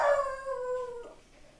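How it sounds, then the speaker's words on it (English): A dog howls indoors at a rabbit in the front yard: one drawn-out, falling howl, fairly close and clear, then a short trailing whimper as it fades. "My dog hears a rabbit in the front yard, it will go freaking nuts."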